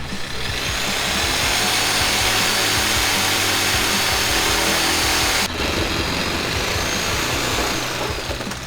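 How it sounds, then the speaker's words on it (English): A Sawzall reciprocating saw cuts through the exhaust of a 1998 Honda Civic EX, a loud continuous buzzing rasp that shifts pitch partway through, with no talk over it. "has to use a Sawzall"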